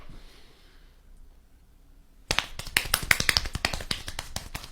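Rapid hand clapping demonstrated as a fast clap, a sharp burst of quick, close, loud claps after a brief near-silent pause.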